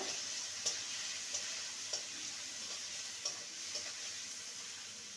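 Vegetables coated with turmeric powder and salt are stirred in a pan, giving a faint steady frying hiss with soft, regularly spaced scrapes and taps of a spoon, no voices.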